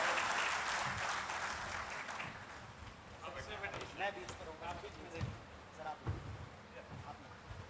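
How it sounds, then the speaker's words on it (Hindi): Audience applause at a televised IBC24 public dialogue event with a BJP leader and minister, heard as a dense burst of clapping that fades after a couple of seconds, followed by scattered claps and crowd noise with voices talking. "जोरदार तालियां चाहिए मुझे"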